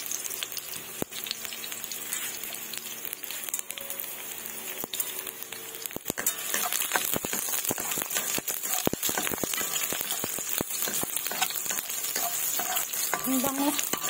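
Garlic browning in a pan, then onion tipped in, a crackling sizzle that grows louder and busier halfway through, with rapid spattering pops and stirring scrapes and no speech.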